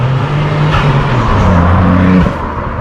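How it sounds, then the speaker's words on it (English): A 2023 Ford Puma ST with the 1.5 EcoBoost engine drives past, its engine note loud and steady, then dropping in pitch as the car goes by and fades near the end. "I'll show you like a few little drive-bys and stuff of the car"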